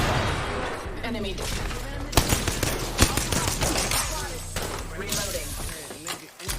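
Gunfire in the shooter Apex Legends, a steady dense crackle of shots with a few sharper cracks standing out, playing continuously under game voices.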